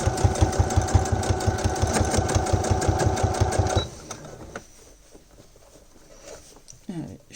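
A sewing machine stitches an assembly seam at stitch length 3, a fast steady mechanical clatter that runs loud and close for several seconds, then stops, leaving quiet handling noises while someone speaks French.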